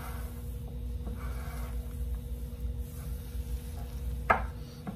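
A parsley and egg filling being mixed in a bowl: soft, steady stirring with faint wet scraping, quiet and close, with one brief sharper scrape near the end.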